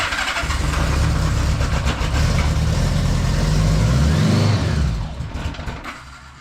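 A 1976 Honda Goldwing LTD motorcycle engine cranks and catches, a loud close churning roar that holds steady for several seconds before dropping to a lower, quieter run near the end, with no talk.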